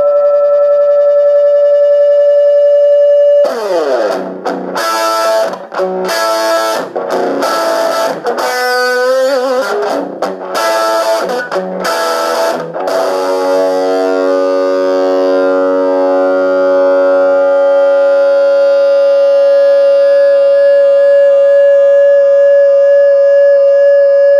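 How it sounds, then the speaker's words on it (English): A hollow body electric guitar on its bridge pickup howls into sustained feedback through a small Danelectro Honeytone practice amp, with a steady hiss underneath, loud and close, swelling through choppy strummed bursts before settling into one long droning tone. "We're going to get a little feedback here on my hollow body just so you can hear what it sounds like."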